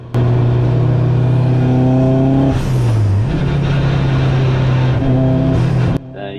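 A racing car at the Silverstone GP circuit in a BRSCC ClubSports race on a wet track, its engine heard from onboard as a loud, close, steady drone that dips briefly during a gear change, then climbs again under power.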